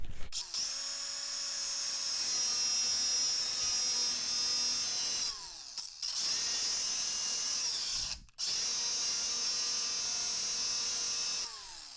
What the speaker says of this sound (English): And moving back over to the vise and the angle grinder for this one.